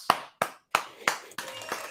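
A few sharp, separate hand claps at a slow, even pace, close and fairly quiet, fading into faint sound at the end.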